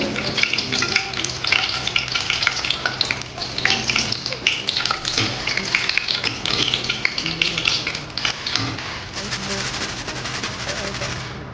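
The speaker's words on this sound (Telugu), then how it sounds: "ఇది బాగా పచ్చివాసన పోయే వరకు ఇది కూడా వేయించేసుకోవాలి" An ingredient for a poha (flattened rice) mixture frying in hot oil, a loud, dense crackling sizzle with rapid popping and spattering throughout, close and continuous with no talk.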